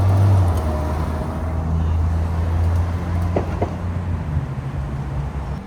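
A Ferrari F12 TDF sits in city traffic, with a low, steady engine rumble near and loud amid general road noise, plus a couple of faint clicks.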